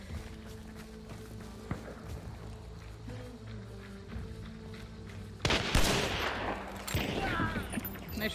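Gunfire in Hunt: Showdown starts as a few faint, distant cracks under a low ambient drone, then a loud close shot bursts out near the end, followed by ringing noise.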